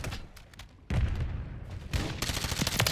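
Bursts of automatic fire from a JAK Decimator in a first-person shooter, with rapid hip-fired volleys punctuating background battle noise and growing denser toward the end.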